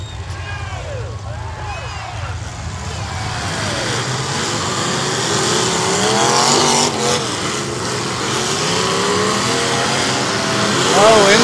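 A race car at the 2022 Chino Challenge, its motor running rough, roars and revs steadily for about eleven seconds, loud and close with a broad engine drone and rising pitch sweeps, while commentary voices talk over it.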